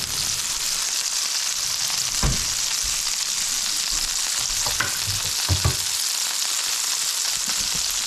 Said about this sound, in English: It's starting to cook. It's starting to get white here. The egg.